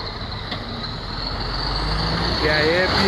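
A Scania R470 truck pulls out, its diesel engine rumbling steadily close by and growing a little louder as it drives off.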